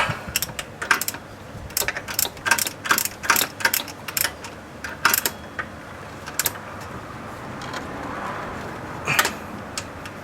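A ratchet tightens a 10mm tensioner bolt on a 4AGE 20-valve VVT engine, giving rapid bursts of close, sharp pawl clicking that slow into sparser clicks toward the end, with no speech.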